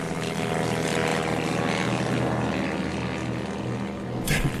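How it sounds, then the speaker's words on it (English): A propeller monoplane's engine drones loud and steady overhead as a radio drama sound effect, a continuous buzzing roar with no speech, ending in a brief rough burst. "The unmistakable noise of an aeroplane engine."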